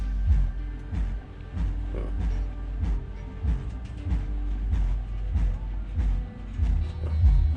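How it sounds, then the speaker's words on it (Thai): Car audio system playing a deep bass tone through a vibrating loudspeaker, a dense, continuous low-end rumble with rhythmic pulses throughout, loud and steady with no voices. "อันนี้เป็นเบสเนาะระบบเบิ่งลำโพงสั่น"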